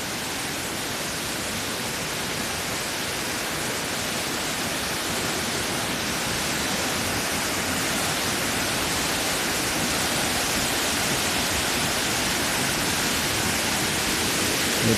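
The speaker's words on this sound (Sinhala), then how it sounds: "මහා කඳුමුදුනෙන් ගලා හැලෙන මේ ලස්සන දිය ඇල්ල" A waterfall pours down a mountainside at Rakwana, Sri Lanka, producing a dense, continuous roaring rush of water that stays steady and loud throughout.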